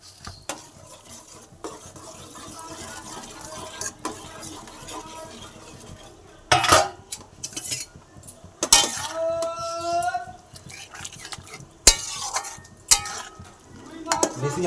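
Fried pointed gourd and potato go into simmering gravy and are stirred with a metal spoon. There are scattered knocks and scrapes against the pan over a soft sizzle, and a few louder stirring clatters come in the second half.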